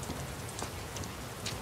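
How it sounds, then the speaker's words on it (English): Heavy rain falls in a Seattle downpour in The Last of Us Part II, a steady, dense hiss of drops that is close and continuous throughout. "This is a real downpour."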